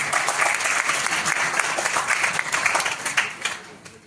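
Applause from the audience at a Suheldev Bharatiya Samaj Party membership meeting in a community hall in Mau, with sustained crowd clapping that fades toward the end and a voice speaking over it.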